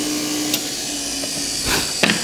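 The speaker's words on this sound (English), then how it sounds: "Now I can flip that over, drill again." A drill press drilling wood makes a loud, steady machine whir that fills the clip, broken by a few sharp knocks and a scraping burst near the end.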